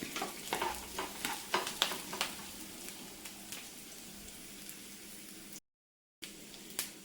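Okra and onions frying in a pan over a low flame, a soft continuous sizzle with a run of spatula scrapes and taps early on, then quieter frying, close by and without talk.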